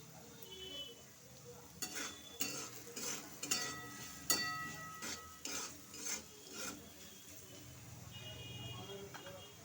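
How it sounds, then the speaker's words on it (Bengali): Potatoes frying in a pan with turmeric and salt, heard as a series of scraping stirs and utensil clatters against the pan over a low sizzle, close and moderately loud. "আলুগুলো আমি খুব ভালোভাবে ভেজে নেব।"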